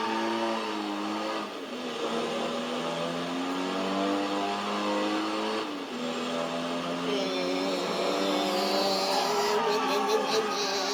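A racing engine of an Abarth 695 SS in the video game Driver San Francisco whines and revs continuously during a drift event, pitch swooping up and down as the car slides, steady and fairly loud with faint talk underneath.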